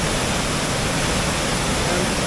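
Water rushing steadily down a drop in an irrigation canal on the Gogira branch near Rukabad in Pakistan, a loud, dense, continuous roar that stays even throughout without any break.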